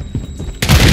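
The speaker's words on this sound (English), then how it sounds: "Throwing Semtex!" Semtex grenade going off in Call of Duty Modern Warfare III: after a second of muffled game noise, a sudden loud, close burst erupts and holds to the end.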